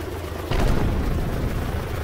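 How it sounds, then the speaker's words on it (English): Helicopter flying in the VRChat video game, a low, rumbling broadband roar that suddenly swells louder about halfway through and stays steady and close. "Almost hit the helicopter."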